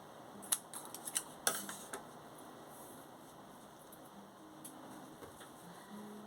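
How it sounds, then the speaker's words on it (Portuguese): Scissors snip through the fabric tape of a zipper during sewing of a cushion cover, a few quick close clicks early on, then quiet room tone. "vou dar uma cortadinha aqui na cremalheira"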